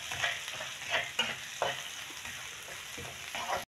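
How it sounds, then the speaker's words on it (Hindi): Carrots with garlic fry in a pan as the base for chicken corn soup, a close, quiet sizzle broken by several rhythmic scrapes of a spoon stirring the pieces. "गाजर को हमने 3 से 4 मिनट तक कुक करना है"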